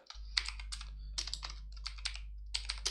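Quick bursts of typing on a computer keyboard as a domain name is entered, close and crisp keystrokes in short rhythmic runs over a low steady hum.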